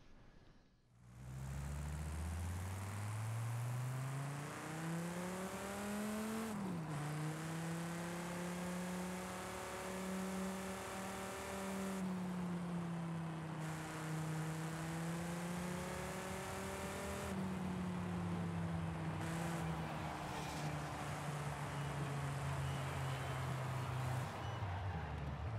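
The Dodge Viper ACR in Forza Horizon 5 runs on a track in a steady, loud engine drone that holds a high, sustained pitch with small rises and dips over gear changes, and no one talks.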